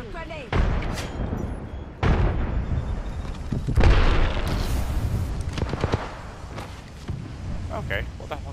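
Gunfire and explosions crack and boom in a video game squad fight: sharp shots and heavy blasts come in bursts, close and loud, with voices talking between them.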